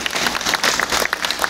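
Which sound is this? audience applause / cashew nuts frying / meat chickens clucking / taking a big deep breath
audience applause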